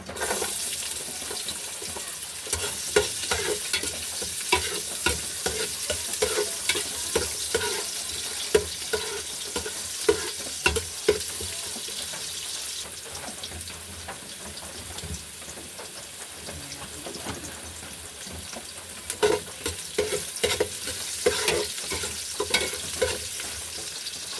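Ginger sizzles in hot oil while tinola is cooked, a steady bright hiss running throughout with scattered stirring clicks and scrapes.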